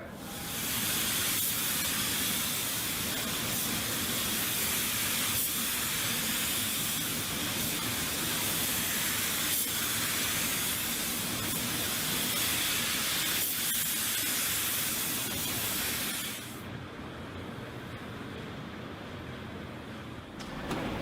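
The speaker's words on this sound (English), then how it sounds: "Let's get the clear coat on and then we'll put the job outside and take a look at it." A spray gun lays clear coat onto car paint in a body shop, a loud steady hiss running for about sixteen seconds before cutting off to a quieter background.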